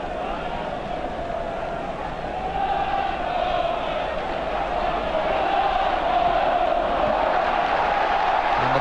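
A crowd of 50,000 at a 1974/75 FA Cup quarter-final football match between Birmingham and Middlesbrough, a steady distant roar of stadium noise swelling slightly, heard beneath the match atmosphere.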